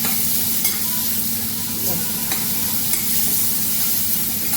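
Sustained bright sizzle of ingredients hitting hot oil for moong dal palak with spinach, steady and close throughout with light stirring scrapes, no voices.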